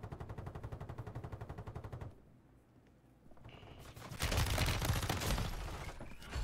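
Gunfire in Call of Duty Warzone Rebirth: a fast automatic burst rattles for about two seconds, then a short lull and a dense wave of heavier firing, with no talking over it.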